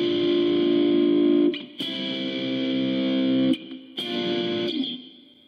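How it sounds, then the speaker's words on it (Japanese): Electric guitar on the ZOOM MS-50G main distortion setting, tube-like with light reverb, playing sustained distorted chords in three loud bursts separated by short breaks, alone with no talking. "通常のメインの歪みはこんな感じです。"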